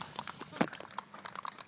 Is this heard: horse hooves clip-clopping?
yes